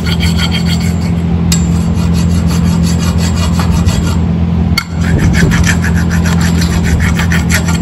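A metal file rasps along a garage door spring shaft to take off burrs, loud close strokes repeating in a steady back-and-forth rhythm over a constant low hum, with a brief break midway.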